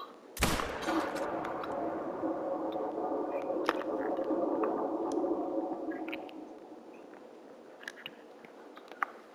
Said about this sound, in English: All I know is that I'm shooting a Plains Bison.